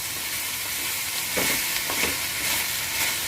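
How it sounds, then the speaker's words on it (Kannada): Brinjal gojju cooking in a pan on medium heat, a steady soft sizzle and frying hiss with a few gentle stirring scrapes partway through, close and fairly quiet with no talk. "ನೋಡಿ, 2 ನಿಮಿಷ ಆಗಿದೆ ಮುಚ್ಚಿ, ಅದಕ್ಕೆ ಕೈ ಆಡ್ತಾ ಇದ್ದೀನಿ"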